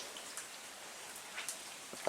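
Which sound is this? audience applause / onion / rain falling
rain falling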